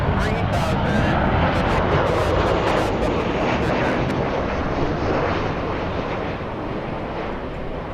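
A Southwest airliner rolls for takeoff on runway 24 left at LAX, a loud, steady broadband jet roar filling the whole stretch and easing slightly toward the end, with faint radio chatter mixed in.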